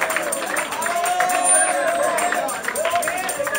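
A church congregation at a praise service claps hands amid loud shouting and singing voices, the clapping busy and continuous and partly buried under the crowd's noise.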